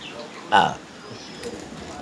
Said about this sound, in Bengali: চলো ধরে যাক আমরা পায়রাগুলোকে খেতে দিই।